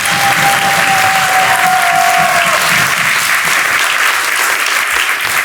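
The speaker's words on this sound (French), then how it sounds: "Applaudissez-les bien fort." Studio audience at a French children's game show bursts into loud, sustained applause, dense steady clapping with a brief crowd murmur, filling the whole stretch without pause.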